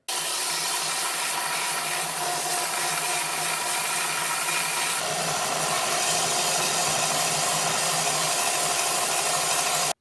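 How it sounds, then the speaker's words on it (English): A belt sander grinds steadily against the wooden pegs sticking out of a knife handle on a DIY WWI brass-knuckle trench knife. The loud, continuous abrasive whir runs alone without a break and shifts in tone midway as the pressure changes. "I'm going to do that by using the belt sander right here"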